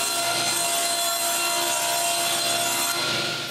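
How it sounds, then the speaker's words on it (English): A saw cutting a long plywood piece with the blade tilted to 10 degrees, a steady continuous rasping cut heard up close and alone for the whole stretch. "Now I can cut one side of my long plywood piece to 10 degrees"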